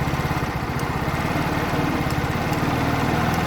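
A 50cc petrol scooter engine runs steadily at raised RPM while being tuned, a close, continuous buzzing putter with even rhythm and no pauses.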